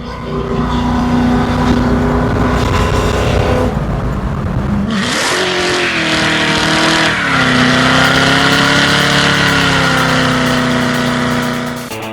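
A Camaro engine revs hard and climbs steadily in pitch, drops briefly at a shift, then pulls up through the next gear, loud and close throughout, with no talking.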